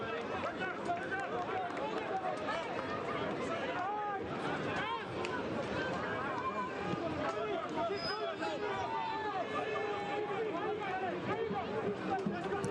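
Stadium crowd arriving for an evening soccer match between Monterey Bay F.C. and Miami FC on the Monterey Peninsula, heard as a continuous dense murmur of many voices and movement, fairly distant and even throughout.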